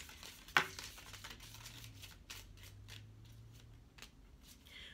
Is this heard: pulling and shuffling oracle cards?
yes